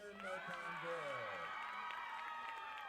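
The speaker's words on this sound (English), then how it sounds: "Cheer in the back." A crowd cheers and shouts from the back of a hall at a live school event, a steady, fairly distant wash of voices and whoops with faint claps.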